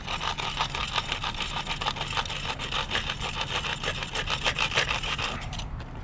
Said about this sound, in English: just take a file to it